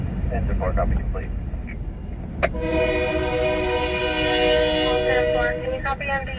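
A passing train sounds a loud, sustained horn that starts abruptly partway through and holds steady, over continuous rumbling rail and vehicle noise, with an emergency radio crackling in the background.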